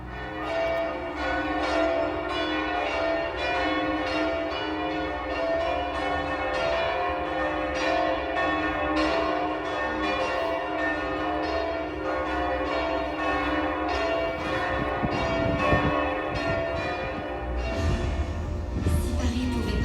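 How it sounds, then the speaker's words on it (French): Church bells of the north tower of Notre Dame cathedral in Paris ringing in a full continuous peal, rich overlapping strikes sustained for many seconds, with crowd noise beneath and a lower rumble near the end. "à l'appel des cloches de la tour nord"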